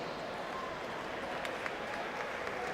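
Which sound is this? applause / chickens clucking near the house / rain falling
applause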